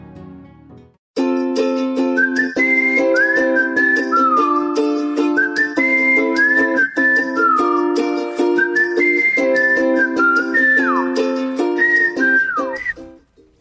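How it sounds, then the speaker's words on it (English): A breathy, flute-like melody of sustained tones with little slides between notes, playing steadily and clearly on its own after a brief quiet start. "There was like a flute, and, Christopher Rausch and I were here. It wasn't his guitar. He was playing his flute."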